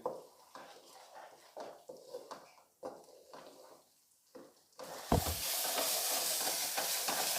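Yogurt is stirred into a mutton masala in a pan, first with soft intermittent scraping strokes, then a sudden loud, steady sizzle and hiss that lasts to the end.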